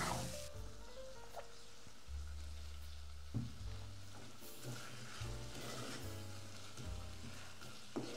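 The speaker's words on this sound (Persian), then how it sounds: "قشنگ هم میزنیم و قشنگ قشنگ اجازه میدیم که گوشتمون سرخ بشه با" Meat fries with onion and spices in a pot for an eggplant stew, a soft continuous sizzle broken by repeated stirring and scraping sounds, with no talking.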